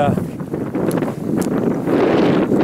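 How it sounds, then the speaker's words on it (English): Wind blows and buffets a microphone outdoors at Three Island Crossing State Park, a steady rushing roar that grows stronger toward the end, with a voice talking over it. "I know the wind's blowing"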